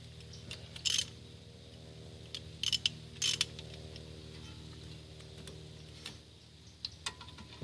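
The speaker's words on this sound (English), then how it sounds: "So we're going to go ahead and remove the two bolts that are back here." Brake caliper bolts on a Mazda5 are loosened with a ratchet, bringing a few short bursts of clicking pawl ticks amid quiet mechanical handling noise, close up and without speech.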